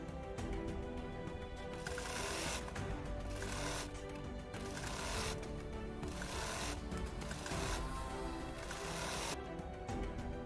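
A sewing machine stitches a double-folded strip onto baby top fabric, running in bursts of fast mechanical whirring with short pauses between runs, steady and fairly close, no speech.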